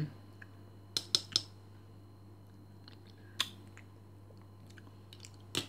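Someone eats strawberry-flavoured Ekovakino bioyoghurt, with a few faint, close, wet mouth and spoon clicks scattered over a quiet low hum.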